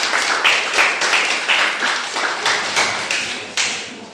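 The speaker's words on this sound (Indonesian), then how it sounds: "Tepuk tangan untuk kelompok 1." Classroom applause for a presenting student group during a problem-based learning lesson: a small crowd's hand claps sound fast and fairly close, with steady overlapping claps and small surges through the whole stretch, and no talking.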